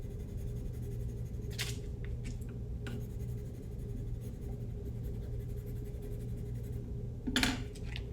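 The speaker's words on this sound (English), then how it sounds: "I'm going to take a pencil, like an ebony pencil or a number 2 pencil. I'm scribbling all over where those lines are." An ebony or number 2 pencil scribbles over the back of a paper tracing. The graphite scratches and rasps continuously on the page, close and fairly quiet, with a few sharper taps and shuffles of the paper and no talking.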